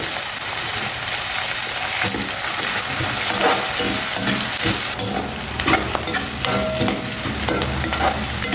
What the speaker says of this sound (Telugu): ఇలా మనం కట్ చేసి పెట్టుకున్న ఈ ఉల్లిపాయలు పచ్చిమిర్చి వేసేయండి